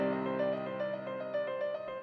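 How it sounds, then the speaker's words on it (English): Fast synth arpeggiator melody for a trap beat, many notes running back to back in a steady rapid pattern, loud and continuous with no voice over it. "Also what is essential is like arpeggiator melody."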